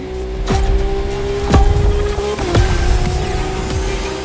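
A Lamborghini Revuelto in a racing game drives with a steady engine drone, with sharp transient thumps and a brief squeal.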